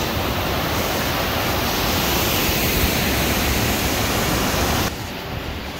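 A tiered waterfall roars with a constant, broadband rush of falling water, loud and close, steady throughout with a slight drop in level near the end.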